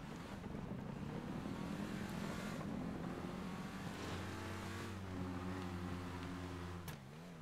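Race car engine revving and straining in a GTA V Online race with a misfiring spark plug, a loud continuous drone that rises and falls in pitch, with the revs shifting near the end.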